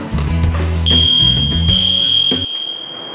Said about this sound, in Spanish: Y como si fuera poco, empezó a sonar una alarma de incendio.